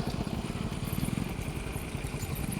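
A motorcycle engine idles nearby with a steady low rumble and a slight clatter, moderately loud and continuous, with no talk.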